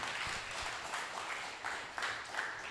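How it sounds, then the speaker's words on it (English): Audience applause for two presenters at a live motivational party event, a soft, steady patter of clapping that stays fairly faint and even throughout with no voices over it. "So can we give another round of applause for Amy and Miss Delcy, you guys?"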